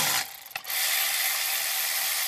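Ratchet wrench tightening a hose clamp on a Ford 6.0 Powerstroke EGR cooler hose, a steady loud mechanical whirr with a brief pause partway through.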